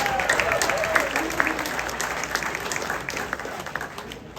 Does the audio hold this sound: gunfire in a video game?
no